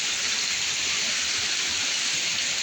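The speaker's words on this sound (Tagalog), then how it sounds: "Tuloy-tuloy pa ang lakas ng hangin at saka ulan" Steady, dense rain hisses continuously with a broad roaring wash of strong wind during flooding, loud and unbroken throughout with no voices.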